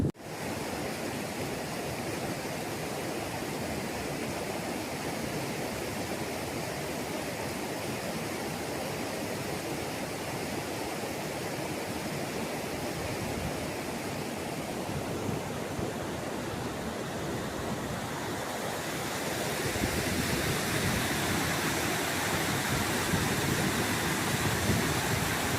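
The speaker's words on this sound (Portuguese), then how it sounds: "Esse rio seria o centro de colhimento de todas as águas e fontes desse morro da Serra do Mar." A river rushes steadily through the Atlantic Forest of the Serra do Mar, a dense, continuous wash of flowing water that stays loud and unbroken from start to finish with no voices over it.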